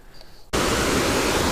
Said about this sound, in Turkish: Ee, derenin, şelalenin, şelale ne ya? Irmağın yanına geldik.